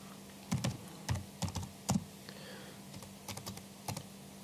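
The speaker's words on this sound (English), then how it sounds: "let's see if I can spell properly. So I just press the enter key and Rachel can now see my chat message" Someone types a chat message on a computer keyboard, making irregular clusters of close, crisp key clicks with short pauses between them. The typing is fairly quiet and there is no speech.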